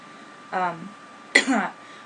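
Two short throaty coughs, separated by a pause, close to the microphone in a quiet room.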